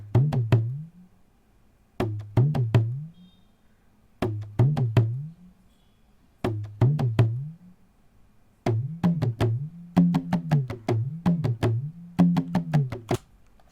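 A Hudka hand drum played live in a studio and captured with an AKG C414 XLS condenser mic, sounding as repeated short phrases of close, dry strokes with pitch-bending low tones, each phrase separated by brief pauses.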